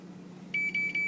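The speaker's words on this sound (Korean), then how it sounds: "5초가 지나니까 이렇게 이제 타이머가 울립니다" Humminbird fish finder timer alarm: a series of short, clear electronic beeps starting partway through, close and steady over a faint background hum.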